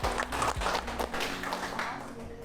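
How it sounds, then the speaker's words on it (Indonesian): Applause for a group of teachers at a classroom performance assessment session in Malang, a steady spread of hand claps lasting throughout at moderate level. "Aplaus tepuk tangan untuk kelompok 1"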